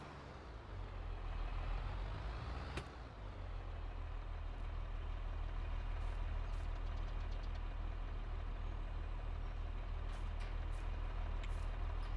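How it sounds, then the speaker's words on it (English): A tractor engine idles steadily in a multiplayer farming game, with a loud, continuous low diesel drone, a brief clunk early on, and faint clicks scattered through the rest. "We're gonna jump on the tractor to open the gate."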